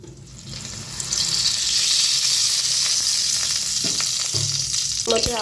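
White cooking oil sizzles steadily and loudly in a pan, a bright continuous hiss that swells after the first second and holds, with a few soft clinks near the end.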